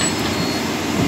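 Tram in Paris near Gare du Nord, heard from on board: a loud, steady rolling rumble with broadband hiss and a faint high wheel squeal toward the end.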